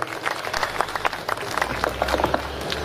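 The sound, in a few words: applause for the donors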